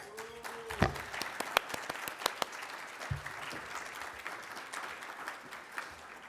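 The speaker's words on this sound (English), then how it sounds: "Let's give them all some love and a big round of applause." At a climate policy summit plenary session, an audience applauds sponsors with a scattered crowd of claps and a few sharp, louder individual claps nearby, all at a moderate distance.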